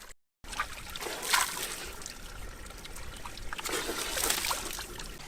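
Water trickles and splashes steadily close by while hydration bladders are topped off at the last water stop on a hot summer hike up Mt. Baldy. Outdoor noise sits under it, with a short gap of silence near the start.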